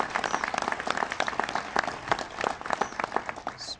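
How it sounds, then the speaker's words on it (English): Audience applause for Carol Browner at a climate change event, a sustained wash of many hands clapping with some crowd murmur beneath. "Please give Carol Browner a big round of applause."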